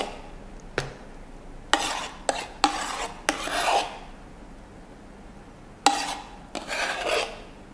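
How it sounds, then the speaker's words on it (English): Thick, creamy milk foam scooped with a milk foam scoop while making a cappuccino, giving a few short scraping and rasping strokes close by with quiet pauses between them. "I'm going to use my milk foam scoop. It's really thick and creamy here."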